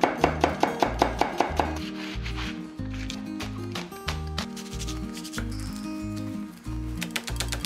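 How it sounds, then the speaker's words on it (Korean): A knife chops green onion and red and green chili peppers on a board for kkanpunggi: a quick run of sharp, even taps, then a duller stretch of slicing, and another burst of rapid chopping at the end. "대파랑 청양고추, 홍고추는 이렇게 절반을 갈라서 썰어주시면 되고요."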